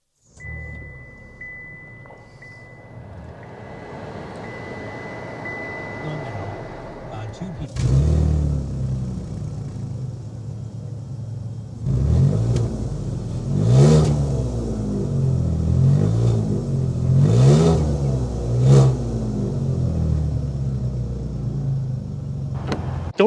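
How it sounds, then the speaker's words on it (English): A 2023 Buick Enclave Avenir with a naturally aspirated V6 cranks to life, then settles into a low exhaust rumble broken by several revs, while someone talks over it. "start it up, so you can hear that exhaust note"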